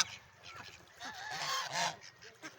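Ducks at a fish pond honk and call repeatedly, loud and close, in a busy overlapping cluster that swells in the middle, with no talk.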